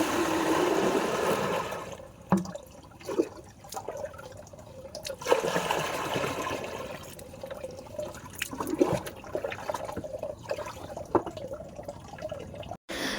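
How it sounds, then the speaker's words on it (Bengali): Water running from a bathroom tap into buckets, a steady gushing pour with splashing and dripping that shifts as the buckets fill, heard alone and close throughout. "এখন যাব বাথরুমে জল ভরতে।"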